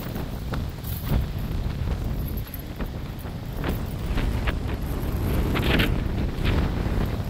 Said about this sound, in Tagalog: Medyo malakas pa ang hangin.